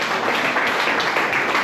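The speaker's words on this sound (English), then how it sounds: "one more round of applause for their team." Applause from the audience at a senior citizens party in a village, steady dense clapping filling the room without pause for the whole moment.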